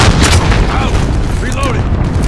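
A missile explosion in Call of Duty: Modern Warfare, a dense sustained rumble of booms and gunfire-like bursts under radio chatter and battlefield voices, loud and continuous throughout.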